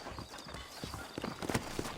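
Horse hooves clip-clop in the Red Dead Redemption video game, set in New Ulster, as a few uneven, moderately close clops sound over a low ambient bed.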